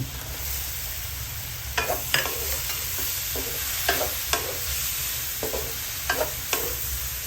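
Kangkong and mushrooms fry in a pan for adobong kangkong under a steady close sizzle, with repeated scraping and tapping strokes from stirring at an uneven rhythm.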